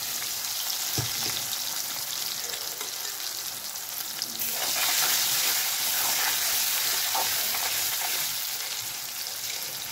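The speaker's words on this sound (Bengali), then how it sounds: "তেল গরম হয়ে গেছে, এবার একে একে উচ্ছেগুলো আমি ভেজে নিচ্ছি" Bitter gourd pieces frying in plenty of hot oil make a loud, continuous close-up sizzle that swells as more slices drop in and then crackles on steadily, with occasional light scrapes.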